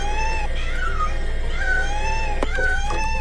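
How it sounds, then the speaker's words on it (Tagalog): A cat meows repeatedly, a string of clear, rising and falling cries close by, with a low steady hum underneath. "Kanina pa siya meow ng meow."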